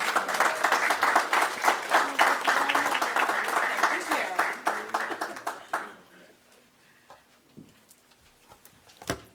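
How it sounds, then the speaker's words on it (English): Audience applause greets Congresswoman Terri Sewell at the 2022 Magic City Classic news conference, a loud burst of clapping for about six seconds that then fades to near silence with a few faint sounds. "Please give her a round of applause here."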